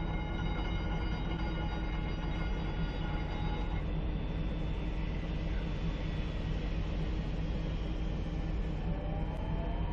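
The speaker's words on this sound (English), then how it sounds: "And we can go ahead and start the engines." Airbus A310 jet engines spool up during start in X-Plane 11, a steady, loud broadband roar layered with high whining tones, one whine rising near the end, with no voices.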